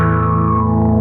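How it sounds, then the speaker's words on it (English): Sustained distorted, filtered guitar tone through a Monster Duck wah pedal with its grit control adding distortion, a steady harmonic drone and a slight wavering sweep, loud and continuous throughout. "that adds more distortion into the filter"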